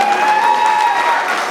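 A celebration audience at a circumcision feast claps together, a dense, even burst of applause that fills the short moment, with a faint tonal hum from the room beneath it.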